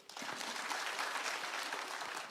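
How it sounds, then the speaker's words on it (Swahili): An audience at a county security forum breaks into steady, dense clapping that fills the short stretch from start to end without pause. "Haya, tujipikie makofi."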